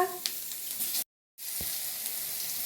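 Panch phoron and green chillies sizzling in hot oil, a steady close hiss of frying that cuts out briefly then resumes, with a light clink of a utensil.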